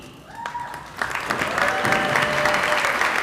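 Commencement crowd applauds board members at a community college ceremony, the clapping swelling after a brief quiet start into a loud, sustained wash, with a faint tone and some stray noise early on.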